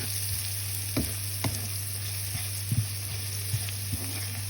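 Frying in a kawali while making kare-kare, a steady low sizzle with occasional light knocks and clicks of stirring, fairly quiet over a constant background hum, no voices.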